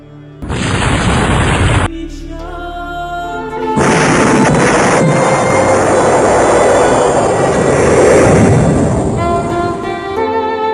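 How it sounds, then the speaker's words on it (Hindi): A huge ammonium nitrate explosion at the Beirut port rolls out as a loud, sustained booming roar with a sharp burst near the start, then a long, heavy rumble that lingers for several seconds. "धमाका इतना बड़ा था कि करीब 240 किलोमीटर तक इसकी आवाज़ सुनाई दी।"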